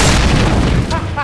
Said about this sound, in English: Hello, explosion.